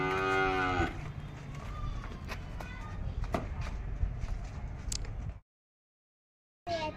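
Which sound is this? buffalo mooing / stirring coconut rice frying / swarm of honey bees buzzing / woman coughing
buffalo mooing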